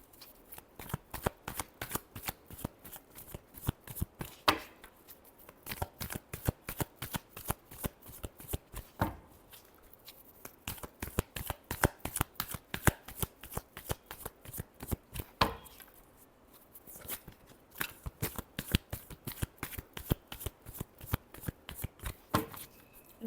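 Tarot cards are shuffled repeatedly by hand, crisp rapid riffling bursts in quick rhythmic runs with brief pauses between rounds, close and clear with no talk.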